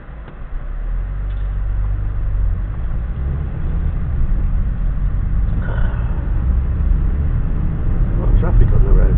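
Road traffic rolls past at 4 o'clock during the school run, a steady low rumble of engines and tyres that swells gradually, heard as if from inside a car.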